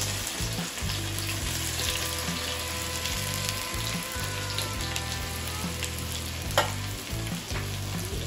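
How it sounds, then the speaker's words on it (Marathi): Ginger and garlic sizzling in hot oil for spicy homemade kheema, a steady loud crackle throughout with a brief sharper pop near the end; nobody speaks. "तर पहिल्यांदा आपण टाकतोय अद्रक आणि लसूण."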